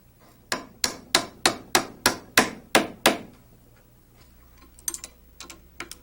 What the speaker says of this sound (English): plastic hammer to drive the bolts through the holes